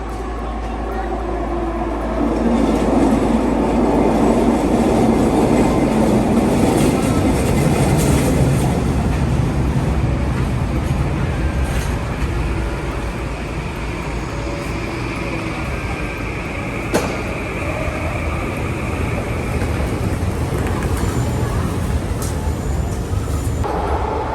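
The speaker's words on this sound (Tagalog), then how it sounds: "Antayin natin yung train. Yun na yung train, no?" A train pulls into a station in Vancouver, a loud continuous low rumble and rolling roar that swells and holds for the whole stretch, with a person speaking briefly over it.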